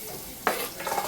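Onion, garlic, banana peppers and jalapeño peppers dropped into hot oil together, setting off a sudden burst of crackling sizzle that then keeps frying steadily for about a second, close by.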